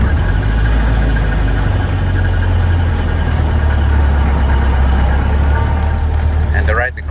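A 1931 Ford Model A engine runs in cold weather with a loud, close, steady low rumble that holds evenly throughout. It dips briefly near the end.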